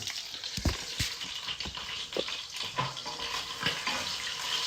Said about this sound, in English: Oh, our garlic's browning nicely.